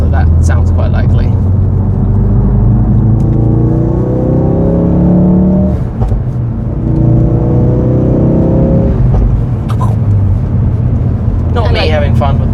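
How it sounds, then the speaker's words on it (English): A car engine revs and rumbles steadily throughout while driving, with small exhaust pops and crackles; a person talks over the engine noise. "Not me having fun with my car. I like these little pops."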